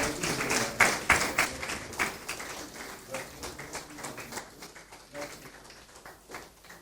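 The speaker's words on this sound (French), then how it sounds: "nous allons nous lever et l'applaudir encore plus fort" A standing audience applauds Gaston Zossou at a talk, with sustained clapping that peaks early and then gradually thins out.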